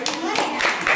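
A classroom of young pupils gives a short burst of clapping, close and lively, lasting about a second amid voices.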